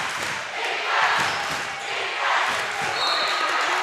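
A basketball crowd cheers in a gym, a loud, continuous roar that swells and rises in waves, with a voice speaking underneath and faint ball bounces mixed in.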